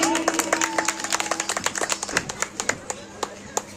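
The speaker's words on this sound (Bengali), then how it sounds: "হাততালি" Scattered clapping from a small audience in a staged drama scene, individual claps close and uneven and thinning out toward the end, with a voice briefly underneath.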